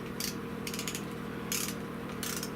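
A ratchet snugs the bolts on the oil pump of a Buick 350 or 455 engine, giving four quick bursts of crisp metallic clicking, each separated by a short pause, close to the listener, over a faint low hum.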